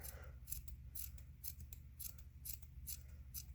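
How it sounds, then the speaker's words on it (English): Scissors trim the beard of a handmade yarn gnome, giving about eight quick, crisp snips in a steady rhythm, close and fairly quiet over a low background hum. "I'm going to trim his beard quite a bit"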